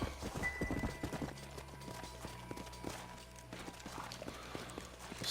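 Hooves clip-clop steadily from a horse in the western video game Red Dead Redemption, a rhythmic run of hoof beats at moderate distance over faint ambient game sound.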